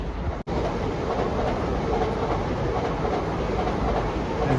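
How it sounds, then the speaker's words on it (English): A train rumbles past beneath a railway viaduct at night, a loud continuous clatter of wheels on rails that fills the whole stretch with steady, dense noise; no talking. "There's a train."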